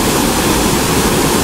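Duchesnay Falls in North Bay, Ontario, sends out a steady, loud rush of falling water, a continuous broadband roar with no breaks and no voices.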